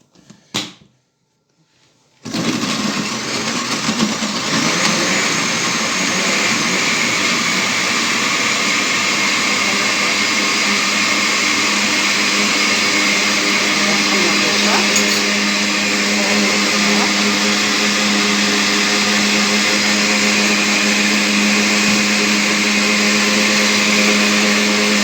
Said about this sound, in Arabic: يلا دابا غنديرو هاد الطحن، درنا معاه نص كاس د الماء